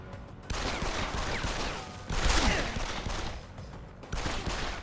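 Gunfire in the video game Deus Ex: Human Revolution comes in dense bursts of rapid shots, separated by brief lulls, with a louder volley in the middle.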